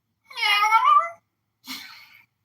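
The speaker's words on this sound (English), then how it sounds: "You know how a cat says hello, kitty?" A cat meows twice, a long bright meow followed by a shorter, breathier one, close and clear with silence between.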